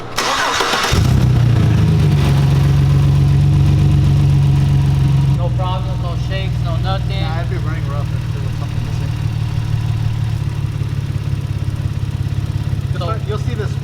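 A car engine cranks and starts after a catch can install on a vehicle with over 120,000 miles, then settles into a steady, loud idle while a person talks over it.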